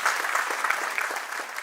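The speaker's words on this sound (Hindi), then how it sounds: "एक बार अपने लिए जोरदार तालियां बजा लीजिए।" An audience claps at a chamber of commerce centenary celebration, giving brief, lively, continuous applause with no one speaking over it.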